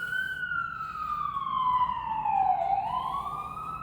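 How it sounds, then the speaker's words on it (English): An ambulance siren sweeps down in pitch and back up as it passes, loud and continuous throughout with no talk over it. "I'm trying to overpower the ambulance"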